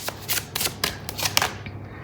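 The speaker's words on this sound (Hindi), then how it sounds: "थोड़े से और कार्ड्स लूँगी" Tarot cards being shuffled by hand in a series of quick, crisp riffling bursts, close and fairly loud, with no voice heard.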